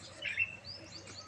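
A sparrow gives a brief, faint chirp outdoors, a couple of quick high notes over quiet background hum.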